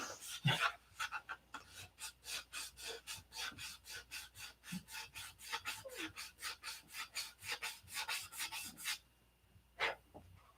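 Rapid rhythmic scraping of sandpaper rubbed back and forth on wood, steady strokes close by, then a brief pause and a couple more strokes.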